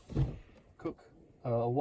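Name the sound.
drawer opening in a popup truck camper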